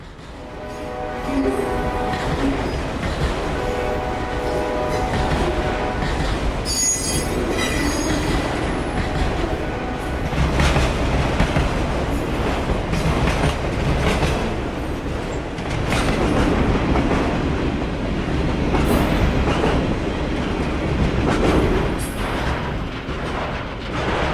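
CSX freight train Q241 rolls southbound past on the Toledo Sub, a loud, close, continuous rumble of railcars with clattering wheels and occasional high squeals.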